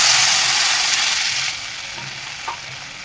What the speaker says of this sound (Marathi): इथं मी एक कप पाणी घेतलेलं आहे बेसनला ते एक कप पाणी टाकून घेणार आहे